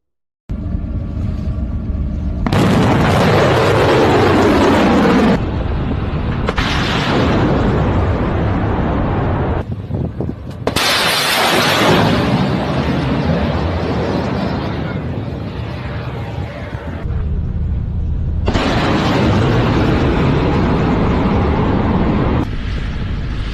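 Loud blasts and roaring launch sounds from Iranian missiles, several long sustained bursts separated by brief pauses, booming and rumbling throughout with no talk.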